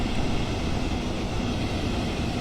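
A train rolls past a level crossing fitted with boom gates on German tracks: a steady, loud, broadband rumble and rush of rail noise holding evenly throughout, with no voices.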